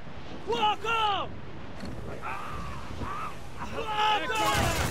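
Ship cannons fire in naval combat in Assassin's Creed IV Black Flag, with dull booms rolling under continuous shouting crew voices and battle noise, a loud burst near the end.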